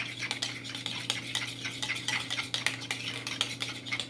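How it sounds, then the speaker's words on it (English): A utensil clinks and scrapes steadily against a bowl while stirring a mixture of mustard, mayonnaise and maple syrup, close up, with a busy continuous texture and no voices. "And you just mix that up."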